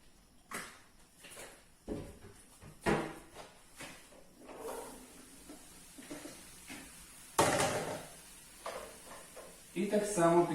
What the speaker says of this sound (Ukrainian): Смажуємо наші баклажани